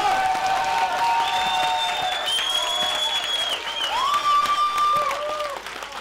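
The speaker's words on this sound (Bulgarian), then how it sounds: "Благодаря за ръкоплясканията." Steady applause from the audience at a live music show in a Burgas studio, dense clapping that holds throughout with a few sustained musical tones ringing above it.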